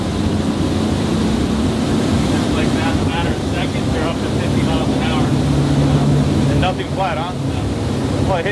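A 2400 hp Valhalla V-46 powerboat roars loudly and continuously as it runs over the water, with people talking over the engine noise.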